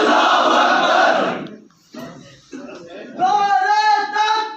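A crowd of voices shouts the Allahu Akbar chant in unison, a loud collective roar that breaks off before a single voice carries a strained, tonal call.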